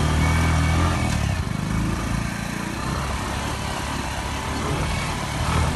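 A motorcycle carrying a rider through the Isibor Ewuare community in Egor Local Government Area, Edo, sends out a steady, loud engine drone with some wind rush the whole way, and no talking.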